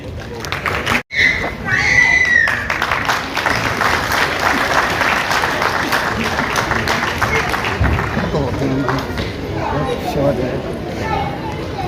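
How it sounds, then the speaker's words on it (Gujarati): Loud, sustained applause from a large audience at a charity show, a dense wash of clapping that fills the whole stretch, with a voice briefly audible near the start. "જોરદાર તાળીનો ગડગડાટ ભાઈ"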